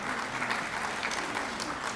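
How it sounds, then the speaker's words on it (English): Audience applause at a high school academic achievers recognition ceremony, a steady wash of many hands clapping together, moderately loud and continuous throughout with no voices standing out. "we're going to clap for her anyway."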